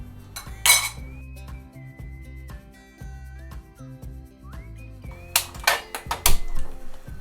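A pressure cooker holding stirred lamb head soup is shut with a sharp metal clink, then a quick cluster of clanks and rattles from the lid and pot a few seconds later, with a low hum underneath.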